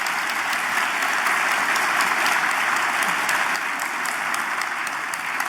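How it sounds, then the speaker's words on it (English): Warm, steady applause from a town hall audience, a dense even wash of many hands clapping throughout without pause. "Please join me in giving them a warm round of applause."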